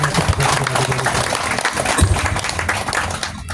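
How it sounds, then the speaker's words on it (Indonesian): Applause from the audience at a political rally in Lembata, a dense wash of clapping from a crowd, loud and sustained for several seconds before tapering off. "saya mengajak kita semua memberikan aplaus, doa restu"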